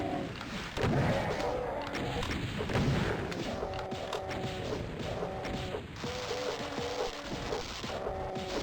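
Heavy double-barreled shotgun blasts in the Doom WAD Eviternity II, fired at an archvile, with punchy booms and mechanical reload clacks repeating at a steady pace amid game effects.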